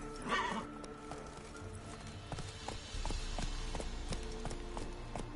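Geralt's horse Roach from The Witcher 3 whinnies sharply at the start, then its hooves clip-clop in a brisk, steady rhythm that grows heavier toward the end.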